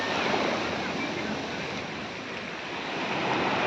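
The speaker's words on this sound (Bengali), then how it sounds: "কিছুক্ষণ পরপরই কিনারে এসে ঢেউগুলো যখন ভেঙে পড়ে" Waves break and wash up on the shore at Havelock beach in the Andamans, a loud continuous roar of surf with wind buffeting the microphone and no pause.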